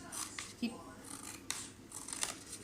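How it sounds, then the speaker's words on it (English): Quiet snipping of scissors cutting a paper spiral, a few short cuts spaced apart, close and soft with faint background noise. "Moving the scissors up and down"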